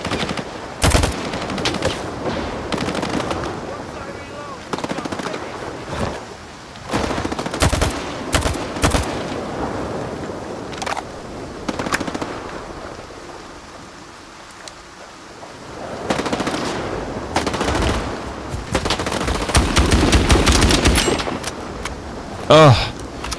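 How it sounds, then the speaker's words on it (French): In the shooter game Stalker 2, a rifle fires in sharp, loud bursts and single cracks, spread unevenly through the scene with pauses, over rumbling and rainy outdoor ambience. "Ah, j'aime toujours autant ce fusil."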